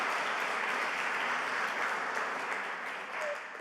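Sustained audience applause at a conference opening ceremony, a broad, even wash of many hands clapping from a sizeable room, steady throughout and tapering slightly near the end.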